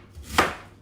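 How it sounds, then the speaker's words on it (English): A knife slices through a big head of cabbage on a cutting board, giving one close, crisp crunching cut that swells and fades in under a second, with no talking. "So I'm just going through and slicing this"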